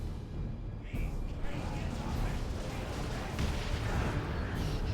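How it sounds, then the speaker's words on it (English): Continuous battle din from Dawn of War 2: Retribution, Imperial Guardsmen firing in a dense rumbling wash of gunfire and explosions, loud and steady throughout with a voice talking over it. "Guardsmen shooting at something."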